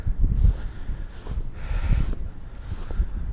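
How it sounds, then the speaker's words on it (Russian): Strong gusting wind sweeps across winter taiga beside a large beaver lodge, a loud broadband roar buffeting the microphone and rising and falling in surges, with no voices. "Ох, ветрища."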